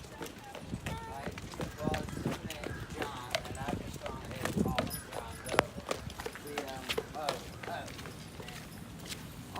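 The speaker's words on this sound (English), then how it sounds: "Horses." Horses clip-clop along a pretty town street on a rainy day, a steady run of hoof strikes heard close and continuous under chatter and ambient bustle.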